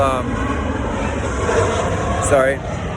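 A fixed-wing airplane flies overhead, its steady broad engine drone filling the background at moderate loudness and swelling slightly near the end, while a person talks over it.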